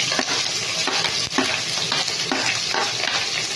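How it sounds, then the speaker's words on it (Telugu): Onions and curry leaves sizzle loudly in a hot pan, a dense steady frying hiss broken by repeated scraping strokes as they are stirred, with no voices. "ఇప్పుడు మనం ఆనియన్స్ వేసుకున్నాము ఆనియన్స్ అలాగే కరేపాకు"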